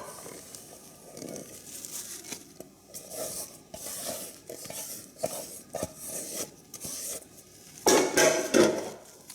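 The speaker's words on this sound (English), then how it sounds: "Now we're just going to mix it all together." Chicken and rice casserole ingredients are mixed in a dish, with irregular bursts of scraping and clinking utensil strokes against the dish and a louder flurry near the end, with no talking.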